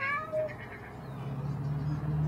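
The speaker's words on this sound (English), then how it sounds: "There's a kitty cat under the stairs." A cat under a staircase gives a few short, high meows at the start, close and clear, followed by a low steady hum in the background.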